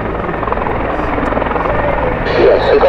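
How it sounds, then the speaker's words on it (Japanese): A helicopter landing at the Komatsu Air Base air show, its steady rotor and engine roar loud and continuous throughout, swelling slightly near the end as it comes closer. "シングルヘリコプターランディング。"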